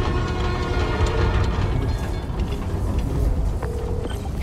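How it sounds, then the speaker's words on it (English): A New York subway train in the Spider-Man: Miles Morales video game rumbles loudly and steadily along the track, with rhythmic rattling clatter and a brief metallic squeal near the end. "my trusty New York subway."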